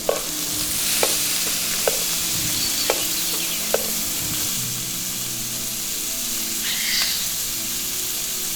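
Steady sizzling of meat frying in a hot pan for Ethiopian bozena shiro, with a few sharp clinks and scrapes of a utensil against the pan over the constant hiss.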